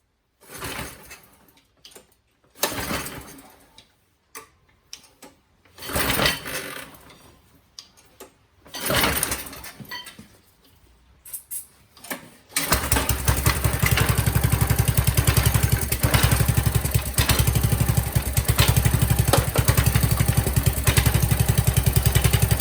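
A Qualcast 35s petrol lawn mower being pulled over with several uneven cranking attempts, then the engine catches and runs loud and steady with a rapid, buzzing rhythm through the rest.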